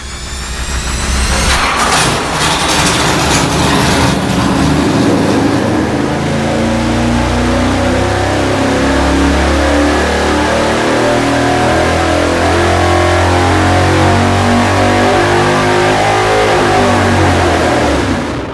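A Chevy 350 or Ford 351 V8 runs loud and steady on an engine dyno, holding a sustained roar with rough low-end pulsing that stays strong from start to finish, with no voices.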